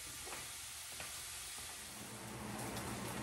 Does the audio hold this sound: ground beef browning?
yes